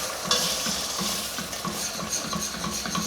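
Heavy whipping cream stirred in a pan for mac and cheese, a steady bubbling sizzle with rhythmic scraping of a utensil against the pan, close and continuous.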